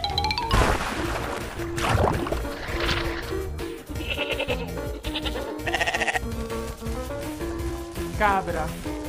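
A goat bleats loudly several times amid a busy mix of music and game sound effects.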